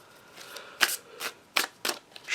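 Tarot-style cards shuffled by hand for a card reading, five crisp riffling bursts spaced unevenly over a quiet background, close and clear with no talking.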